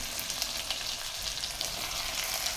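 Tomatoes, radish and onions sautéing in a pot for sambar, a steady close hiss and crackle of frying that carries evenly throughout with no voices.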